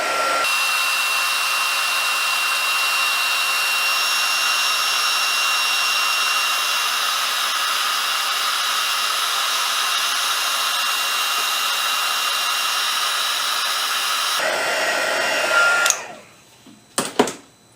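A heat tool heating stamped embossing powder gives a loud, steady blowing whir for about fifteen seconds, then switches off, leaving a few faint clicks and handling sounds.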